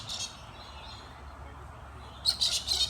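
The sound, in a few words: wild birds chirping at a garden feeder at feeding time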